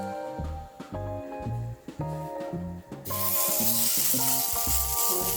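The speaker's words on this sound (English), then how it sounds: "I'm gonna fry up a test patty" A meatball test patty for Italian meatballs fries in a pan, steady sizzle turning to a louder, denser crackle halfway through, with regular knocks and clinks from utensils moving through it.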